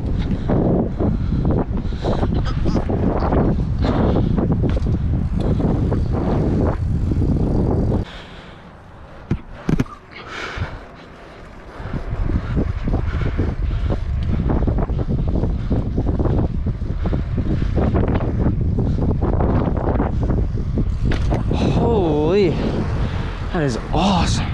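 Wind buffets a microphone outdoors during a bike ride test, a loud, steady rumbling roar that drops away briefly in the middle before surging back, with voices at times.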